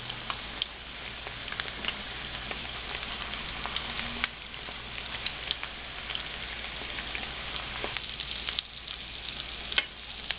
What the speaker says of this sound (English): It's time for the flavor sauce to be applied.